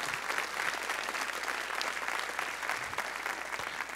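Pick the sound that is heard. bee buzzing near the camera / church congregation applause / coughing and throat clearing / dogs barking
church congregation applause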